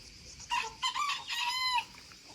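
A small rooster in Croatia crows once, a loud stretched call broken into several bursts, standing out against a quiet background.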